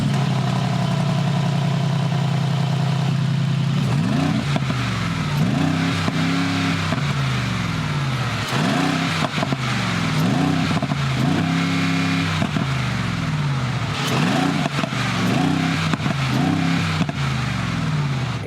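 A 2023 Mercedes-AMG G 63 in Sport Plus mode, its engine idling low and then revving hard in a run of repeated loud, rising and falling bursts, close and continuous with no talking.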